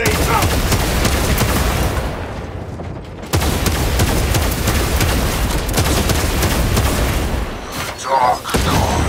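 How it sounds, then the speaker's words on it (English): Frag grenade explosions and heavy gunfire in the video game Space Marine 2, a loud continuous barrage of booms and shots with a brief lull midway, and voices shouting over it. "Frag grenades out!"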